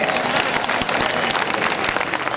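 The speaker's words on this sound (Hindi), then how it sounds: "ताली बजाइए, एनर्जी मिलती है।" Dense, steady audience applause fills a hall during a Hindi political talk, loud and continuous across the short stretch with no break.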